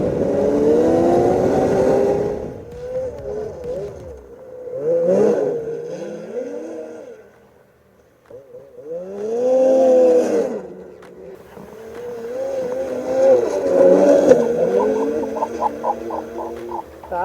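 BRP Lynx RAVE RE 3500 snowmobile engine revving hard on a trail, rising and falling in pitch through several loud acceleration pulls with a brief lull midway, close and dominant.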